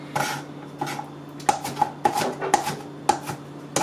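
A knife dices an onion into small cubes on a cutting board with sharp, uneven chops, some in quick pairs, close and clear with no speech.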